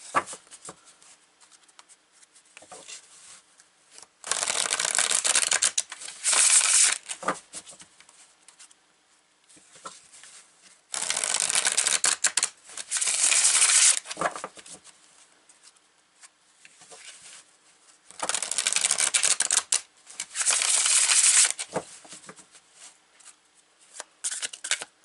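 A deck of tarot cards is shuffled in several separate bursts of crisp riffling and patter, close and fairly loud, with quiet pauses between them.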